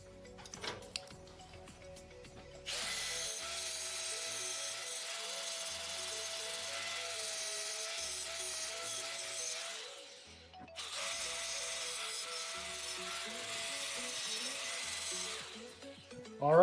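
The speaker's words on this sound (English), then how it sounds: "we'll go ahead and take the grinder and clean up that weld." An angle grinder cleans up a weld on the frame of a 110cc Chinese ATV, running in two long, loud, steady passes with a constant whine and a short break between them.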